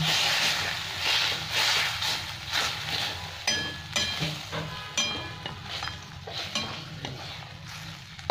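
Water hits a pan of frying egg chilli and sets off a loud hissing sizzle, broken by rhythmic scraping stir strokes close by, with no talking.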